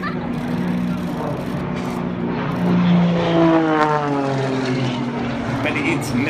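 Aerobatic propeller plane in a Red Bull Air Race over a river through bridges, its engine drone rising and falling with a clear pitch sweep as it passes, under an excited commentator's voice.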